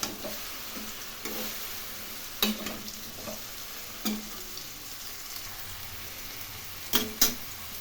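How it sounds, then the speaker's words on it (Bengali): Mixed vegetables stirred in a frying pan for a Bengali sabji, with a faint steady sizzle and scattered scraping spoon strokes, a few sharper clanks near the start and end; no talking. "এখন খুব ভালো করে নাড়াচাড়া করে নেব।"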